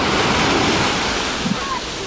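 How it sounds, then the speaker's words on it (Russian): Ocean surf washing onto a beach in Alanya, Turkey, a steady broadband rush of waves with wind on the microphone, continuous and fairly loud throughout. "Ну, такие сегодня волны."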